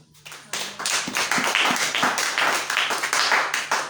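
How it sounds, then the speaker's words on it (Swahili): A church congregation claps hands together in a loud, fast, steady rhythm, many hands close and continuous with no talking. "Piga makofi nyuma."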